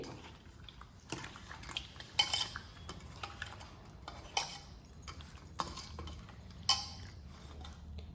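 Fish pieces are mixed by hand in a bowl, giving soft irregular clinks and light wet stirring knocks at close range, with a few sharper taps standing out from a quiet background.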